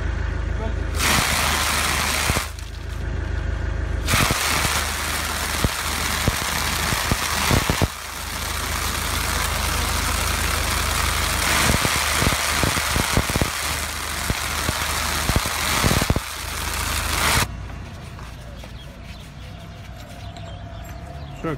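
A tractor fitted with a mower runs at idle, a loud continuous mid-pitched engine drone that dips and returns in places, with people talking over it.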